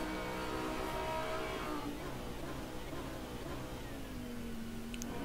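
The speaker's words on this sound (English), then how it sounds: "up through the gears now, up into fifth and up into sixth as well before the braking zone for turn 4" A GT3 race car engine in a racing game at Monza climbs through the gears, its pitch rising and dropping at each upshift into fifth and sixth, steady and fairly quiet under a continuous drone.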